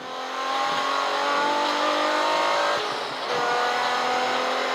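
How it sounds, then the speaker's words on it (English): Front-wheel-drive Jaguar X-Type race car in the Slicks and New Millennium series at Castle Combe circuit, engine revving hard and steady throughout with brief tyre squeal, loud and close from on board, no talk. "my first ever experience of front wheel drive in the Auto Reserve X-Type"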